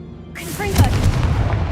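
A Confringo spell explodes in Hogwarts Legacy with a single loud, booming blast that rolls on briefly after a short vocal cry.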